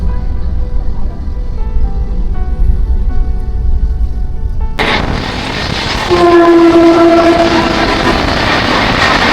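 A train rumbles steadily, then a louder rush of passing passenger carriages takes over with a sustained horn tone sounding over the clatter.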